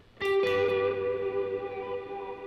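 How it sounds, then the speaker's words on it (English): Guitar played through a Mood reverb pedal on a pedalboard: a struck chord blooms into a sustained, shimmering wash with a second pick attack, ringing on loudly and slowly decaying with no voices. "And I'm going to throw mood reverb on that."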